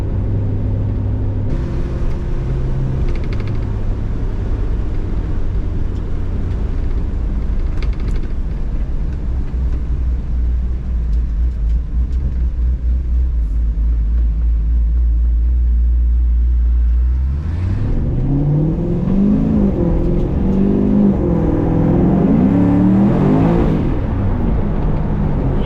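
A Chevelle drives in slow traffic, its engine giving a steady low rumble that shifts and rises as it accelerates near the end, loud and close with no talking.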